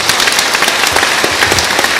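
Dense, steady applause from a crowd at a church healing service, many hands clapping at once with no break over the whole stretch.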